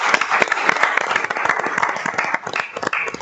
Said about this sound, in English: you do deserve a round of applause.